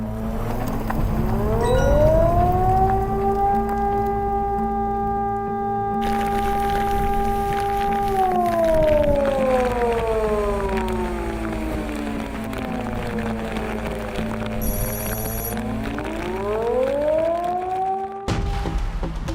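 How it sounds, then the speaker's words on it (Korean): A civil defense siren at a Busan port pier wails in long rising and falling sweeps, steady and loud over a low rumble, cycling slowly for the whole stretch. "사이렌 소리만 계속 울리고"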